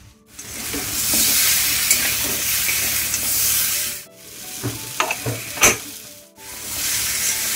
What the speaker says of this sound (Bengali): এদিকে কুমড়ো আর ডাটাও ভালো মতো ভাজা হয়ে গেছে